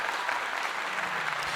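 A burst of applause sound effect, a dense crackling wash of many clapping hands, steady and loud from start to finish.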